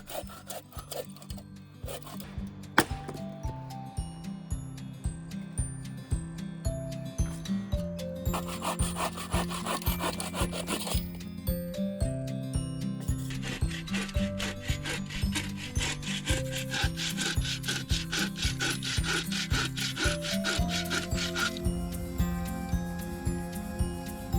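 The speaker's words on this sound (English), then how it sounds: "I'm pretty convinced Dave actually likes sawing wood" Steady back-and-forth rasp of a hand saw cutting through wood at a winter campsite, rhythmic strokes continuing throughout, close and clear with no talking.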